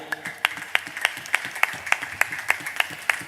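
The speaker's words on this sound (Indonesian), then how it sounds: "Beri tepuk tangan yang meriah." Audience clapping at an Islamic school graduation ceremony in Probolinggo, with distinct individual claps recurring in a steady, fairly even rhythm, moderately loud and without voices.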